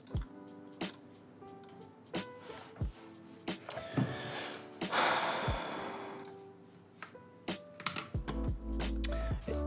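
Typing on a computer keyboard at a writing session, close clusters of clicking keystrokes in uneven bursts with pauses, plus a soft breathy sigh in the middle.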